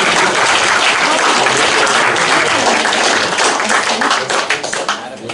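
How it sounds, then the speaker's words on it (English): A debate audience breaks into loud, dense applause for a debater taking the floor, sustained and close for several seconds before thinning and fading toward the end. "Let's give Vivek a round of applause"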